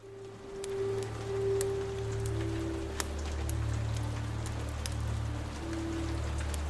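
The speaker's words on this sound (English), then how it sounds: "Rain coming down outside." Steady rain falls outside open windows in the evening, a soft, even patter with scattered sharper drops over a low constant hum, no voices.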